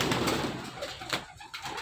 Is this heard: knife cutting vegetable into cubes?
no